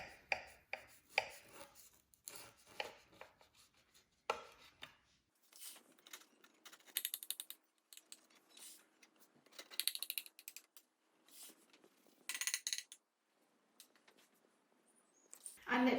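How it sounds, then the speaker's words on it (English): A knife trims the edges off a baked sprinkle cake, giving a series of close, crisp scraping and cutting strokes in irregular bursts with quiet pauses between them. "I'm just going to trim off the edges ever so slightly"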